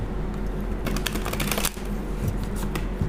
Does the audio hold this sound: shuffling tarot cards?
yes